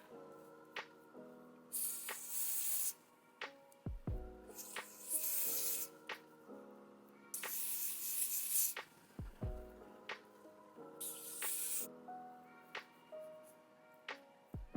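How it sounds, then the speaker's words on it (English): Lace melt spray with silk protein misted along a wig's lace hairline: four bursts of bright, close spray hiss, each about a second long, with small handling clicks and taps between them and music underneath. "Just spray this along the hairline."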